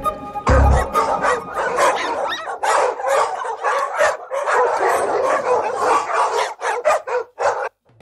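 Several dogs barking and yipping together around a house, loud and close, in dense overlapping bursts with one sharp thump near the start.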